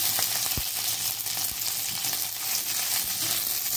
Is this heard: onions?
yes